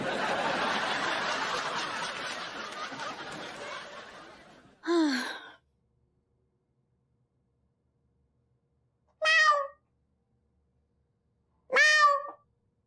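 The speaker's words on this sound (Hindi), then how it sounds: "नहीं लगता है कि बिल्ली घुसाई है अंदर।" A cat meows in a home kitchen: three short, separate meows after a few seconds of muffled background noise, each clear and close, with silence between them.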